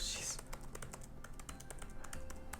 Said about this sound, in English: I'm typing so fast, I'm typing so fast.